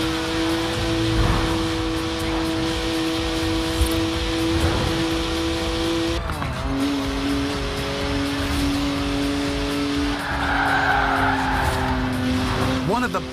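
A BMW in the Forza Horizon 4 racing game skids with a loud, close tire squeal over a steady, droning engine note. The pitch shifts midway as the car slides, and the screech grows stronger near the end.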